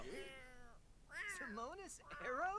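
A cat meows several times in drawn-out, rising and falling cries, with a voice talking over or between them.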